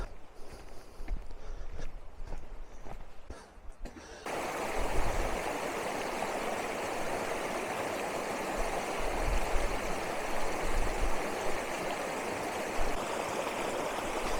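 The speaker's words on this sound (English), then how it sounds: "I heard the rushing water, spotted a bridge." Steady rushing stream water, loud and continuous, rising abruptly after a quieter opening with faint rustling.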